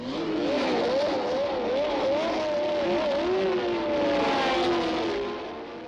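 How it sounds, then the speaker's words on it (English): 1970s Formula One cars pulling away at the start of the British Grand Prix on treaded wet-weather tyres, a dense pack of high-pitched engines rising and wavering as they accelerate, heard from a distance and fading toward the end. "And the British Grand Prix is underway."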